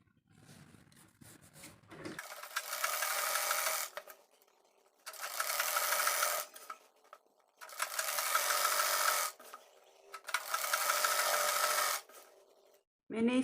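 A sewing machine sews straight seams along a folded petticoat belt in four bursts of steady whirring, each a couple of seconds long with quiet gaps between, close and fairly loud.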